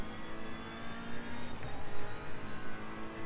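Ferrari 488 race car in Assetto Corsa Competizione at Paul Ricard braking hard, engine note dropping with quick downshift blips and tyre noise, loud and close in-car.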